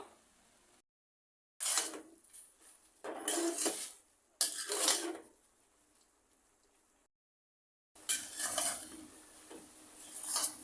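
Data greens (amaranth leaves and stems) stir-fried in a pan, giving short bursts of sizzling and scraping as they are tossed, broken by abrupt silent gaps.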